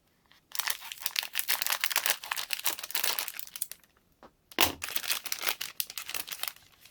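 Plastic packaging being cut open during an unboxing of gaming accessories, loud close crinkling and tearing in quick irregular bursts with a brief pause midway.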